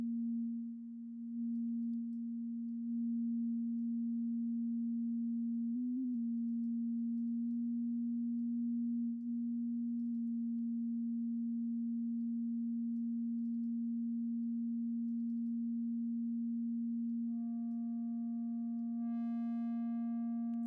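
A synth built in Reaktor holds a single steady, pure low tone with its low-pass filter resonance being raised; near the end brighter overtones ring in above it. The sound is quiet and alone, with no voices.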